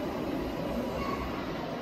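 A steady rumbling roar of a London Underground train running, continuous and fairly loud with no voices.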